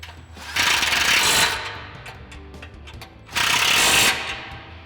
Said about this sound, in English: Now we can go ahead and tighten those down with our 13mm socket on our impact.